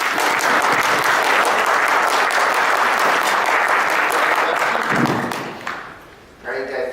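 Sustained, loud audience applause fills a conference keynote hall as the speaker is welcomed on stage, steady for about five seconds before tapering off into scattered claps and a brief voice.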